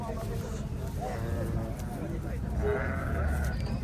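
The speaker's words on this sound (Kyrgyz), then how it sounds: "О, кочкорлорду караңыздар." Rams bleat repeatedly amid the crowd at a livestock fair in Chuy, near Bishkek, their calls rising over constant voices and general market commotion.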